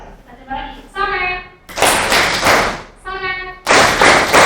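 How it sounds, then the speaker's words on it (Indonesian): A classroom of students claps in unison in short broadband bursts, two loud rounds of clapping alternating with brief spoken calls from a teacher and children. "Ya, jadi kalau sore tepuk berapa kali?"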